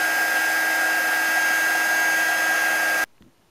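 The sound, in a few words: embossing heat gun blowing hot air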